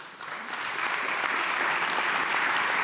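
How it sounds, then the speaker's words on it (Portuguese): A hall audience at a citizens' meeting breaks into applause for António Costa, the clapping swelling quickly from a soft start into a full, steady ovation. "Primeiro aplauso da sala para António Costa na sequência desta resposta."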